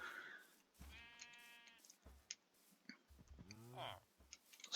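Sheep in a video game bleat twice, a wavering call early on and a lower quavering one later, separated by scattered soft clicks in a quiet setting.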